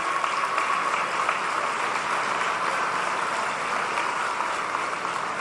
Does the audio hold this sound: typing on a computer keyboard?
no